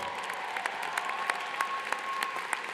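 Commencement crowd at Clark University applauding resident advisors, a sustained field of many hands clapping at moderate distance, fairly quiet overall, with occasional sharper individual claps and a faint whistle-like tone running underneath.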